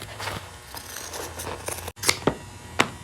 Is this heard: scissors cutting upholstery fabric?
yes